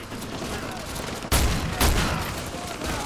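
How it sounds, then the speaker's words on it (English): Heavy gunfire in Call of Duty Modern Warfare 2 Remastered, a dense burst of shots with two loud sharp blasts close together, over constant battle noise. "That was so many bullets until it wasn't."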